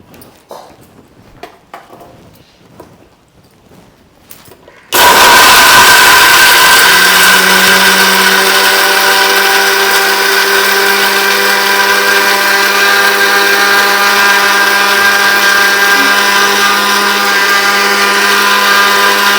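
A mixer grinder whirs loudly and steadily as it grinds coriander masala for chicken pickle, starting abruptly after a few seconds of quiet kitchen noise and running continuously close by.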